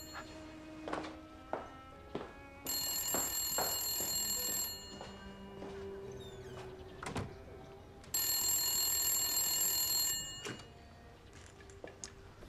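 A telephone bell rings in two long bursts a few seconds apart, loud and close in an indoor scene of a wartime drama, with scattered thumps and movement noises in between and no talking.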